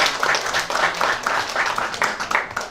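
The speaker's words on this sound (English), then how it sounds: "Let's give them a big round of applause." A school quiz audience claps for a competing school, a brisk patter of hand claps with a rhythmic pulse, moderately loud and continuing for a few seconds.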